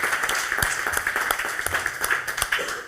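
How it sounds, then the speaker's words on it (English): Audience at a live investing event applauds steadily, broadband clapping sustained without break and no talk over it. "So we can give the listeners a round of applause."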